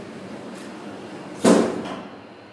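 A FUJI freight elevator door in Grand Paragon Mall, Jakarta, closes with a single sharp thud after a quiet stretch of low hum, the impact ringing briefly before fading.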